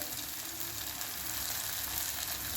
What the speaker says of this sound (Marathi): कांदा टोमॅटो लसूण अद्रकची पेस्ट हे छान आपलं आता फ्राय झालेलं आहे